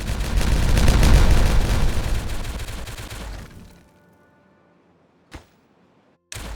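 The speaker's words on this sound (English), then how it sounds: "Let's watch it explode." Explosions in the video game Timberborn: a loud rumbling burst of crackling blasts that fades out, then a brief sharp pop and another sudden burst near the end.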